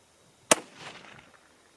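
A single sharp rifle shot from a 22 ARC firing a Hornady 53 or 55 grain Vmax round cracks loudly, followed by a short decaying echo that fades within a second.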